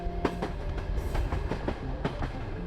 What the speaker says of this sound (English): Olaf was on a train to Kyiv